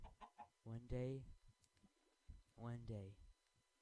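A chicken in the video game Minecraft, played with the FTB modpack, gives a few soft clucks in two short bursts, quiet and close.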